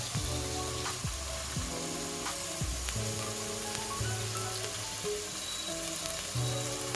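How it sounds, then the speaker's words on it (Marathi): Onion and garlic fry in hot oil with a steady, close sizzle, while a low tonal drone hums beneath it. "कांदा छान लाल होऊ द्यायचा आपल्याला तेल सुटस्तोपर्यंत कांदे भाजून घ्यायचे आहेत"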